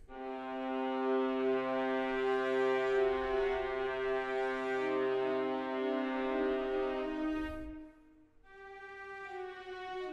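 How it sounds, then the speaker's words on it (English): An orchestral viola section from a sample library holds long sustained notes, a thick bowed chord that swells and stays steady, then briefly drops and re-enters near the end, with no voices. "Then I've got violas, only have longs set up in the template."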